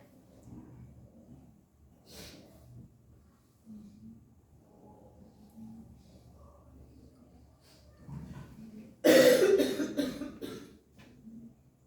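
Quiet murmuring and shuffling give way to a speaker's sudden burst of harsh, repeated coughing close by during a talk, several rapid hacks in a row, then fading back to low noise.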